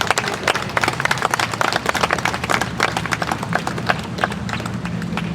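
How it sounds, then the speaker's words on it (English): Crowd applause for students at a high school open house, dense brisk clapping from many hands, close and loud, continuing steadily for several seconds without talk. "Let's give them a round of applause and thank you for the work you did."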